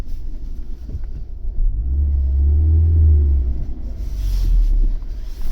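Opel Omega 2.4i car, recently recovered after sitting parked since 2003, driving with a steady low engine rumble that swells in the middle, plus some wind noise on the microphone and no talk.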